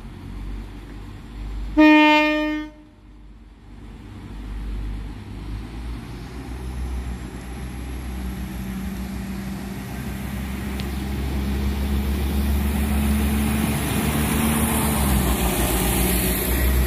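Train 4001 departing Whiteabbey station on the service to Whitehead sounds one short, loud horn blast, followed by a growing engine rumble and rail noise as it pulls away.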